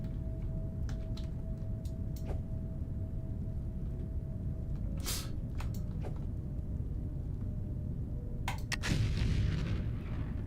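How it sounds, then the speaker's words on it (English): Hard rocks blasted with explosives in the factory-building video game Foundry, a series of sharp, distant-sounding booms and cracks over a constant low rumble, with a heavier burst near the end. "Can I explode the hard rocks?"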